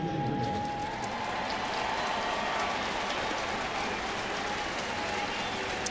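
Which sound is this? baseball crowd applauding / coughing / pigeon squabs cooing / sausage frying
baseball crowd applauding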